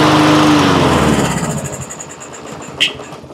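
A Troy-Bilt push mower with a plastic carburetor and carburetor trouble starts, its engine roaring loudly at first, then fading and sputtering unevenly as it runs, with a sharp brief knock near the end.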